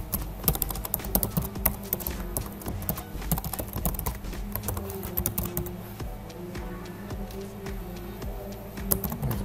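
Someone types an email address on a computer keyboard, producing quick, close bursts of key taps with brief pauses, fairly loud and with no talking over them.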